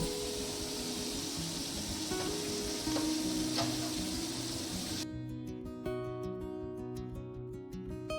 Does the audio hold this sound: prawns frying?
yes